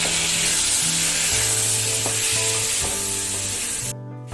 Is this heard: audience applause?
no